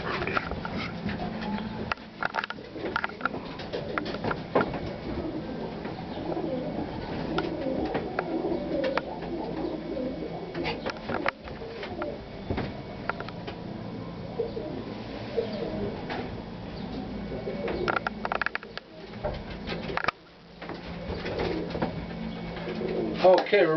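Domestic pigeons cooing inside a stock loft of breeding birds, with several birds calling over one another across a busy, continuous indoor din.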